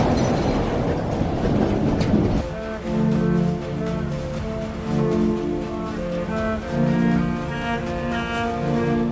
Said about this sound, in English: this train just keeps moving like nothing unusual happened